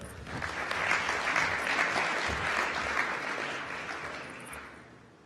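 An audience applauds award recipients on stage at the Boomtown! 2020 Summit awards ceremony. The clapping is dense and sustained, swelling slightly before it slowly tapers off.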